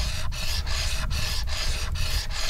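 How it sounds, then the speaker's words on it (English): A stone pendant edge is ground against a piece of sandstone, giving a steady, close rasping scrape in repeated strokes, about six passes with short breaks between them, and no talk. "I just grind the edge on a piece of sandstone."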